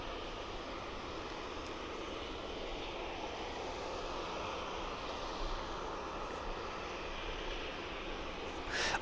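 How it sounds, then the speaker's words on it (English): A steady, broadband roar of an aircraft engine as a plane comes in to land at East Midlands Airport at night. The sound is distant and continuous, with no talking. "you should see our next aircraft coming in"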